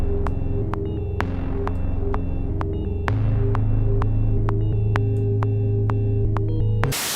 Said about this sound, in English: Gives it that little dotted echo kind of feel.